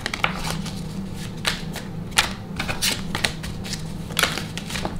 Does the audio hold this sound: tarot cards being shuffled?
yes